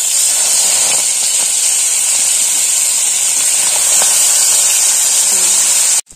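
Dried red chillies and five-spice seeds tempering in fish oil, a loud, steady hiss running without a break until it stops abruptly at the very end, close by with no voices.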